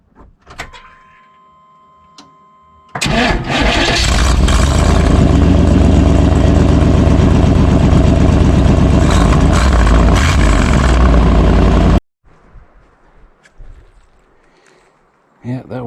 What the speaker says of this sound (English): Let's start it up real quick and blow that out.